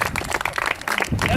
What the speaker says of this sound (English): just a quick round of applause for all of our demonstrators today